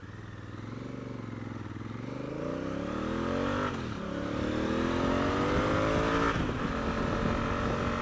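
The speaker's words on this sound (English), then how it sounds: "See, plenty of poke in the engine." A Honda Africa Twin CRF1000L adventure motorcycle engine pulls hard through rising revs, its pitch climbing in steady sweeps with a brief gear-change dip, loud and close throughout.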